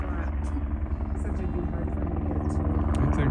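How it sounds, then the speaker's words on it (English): A helicopter approaches overhead in the Absaroka-Beartooth Wilderness by the East Fork of the Boulder River in Montana during a rescue, its steady rotor thrum gradually growing louder. "I thought I could hear a helicopter. It was hard to tell where it was at first, but then it was obvious it was getting closer."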